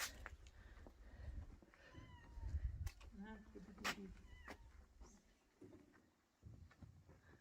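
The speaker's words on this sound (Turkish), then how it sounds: "Kedi sesi var." A cat meows several times, fairly near, mixed with people talking and some outdoor clatter.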